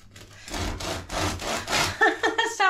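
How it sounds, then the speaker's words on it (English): A serrated knife saws back and forth through hard, crusty air-fryer bread, five rough rasping strokes in steady rhythm, close up, followed by brief crackling. "I think it's going to take some sawing."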